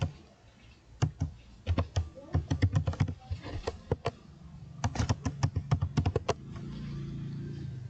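Keys clacking on a computer keyboard in irregular bursts of quick, close presses with short pauses between them, then a steady low hum once the typing stops; no one speaks.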